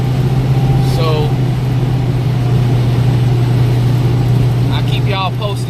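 A Chevy 5.3-liter V8 in a boxy truck idles high with a steady, loud drone and constant hum, while someone talks briefly over it.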